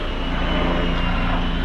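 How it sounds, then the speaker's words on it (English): A police helicopter passes overhead outdoors, a steady, broad engine and rotor rumble that holds level and fairly loud throughout the short stretch with no voices. "We got a police helicopter flying around."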